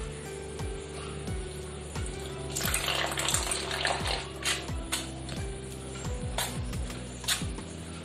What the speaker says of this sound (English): Then we have to take warm water like this and put